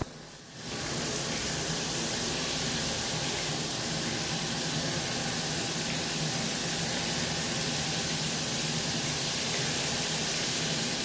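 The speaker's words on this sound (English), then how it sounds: "So we'll turn on the shower." A shower starts up and sprays water onto a bathroom floor, a sudden onset of broad, steady hissing spray that continues evenly and loudly.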